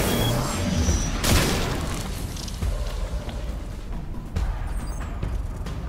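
Rifle shots in the video game Destiny 2: a sharp booming blast early on, followed by scattered lighter impacts and another crack near the end over a noisy game background.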